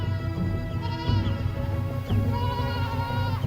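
A young goat bleats several times in wavering, nasal cries over a rumbling, busy background.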